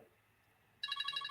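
A mobile phone ringing suddenly during an interview, a bright, trilling electronic ringtone that starts abruptly and pulses steadily, close and clear after a near-silent moment.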